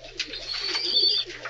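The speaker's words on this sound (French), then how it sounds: "Les pigeons de M. Delcroix rentrent au pigeonnier, ils reviennent à Noyelles." Pigeons returning to a loft in Noyelles give soft, close cooing calls in a brief, murmuring burst.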